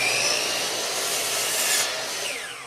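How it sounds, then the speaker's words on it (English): A saw cuts through a repurposed wood board, trimming off a staple-holed end; the cut is a loud, steady rasping hiss that lasts about two seconds before fading out. "I'm going to go ahead and cut this end off because it's got all those staple holes"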